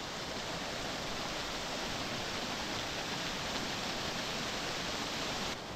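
A small waterfall in the Kolli Hills, across from a temple, pours with a steady, dense, full-band roar of rushing water, close and constant with no other sounds.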